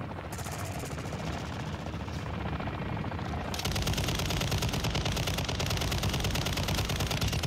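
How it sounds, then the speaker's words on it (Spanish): Loud helicopter rotors thrum continuously in the video game Modern Warfare III, growing heavier midway, with rapid gunfire-like chatter blended into the roar. "Los helicópteros."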